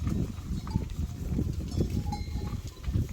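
Goats browsing and stripping a bramble thicket outdoors, a steady dense rustling and munching of leaves and stems close by, with a faint bell clanking now and then.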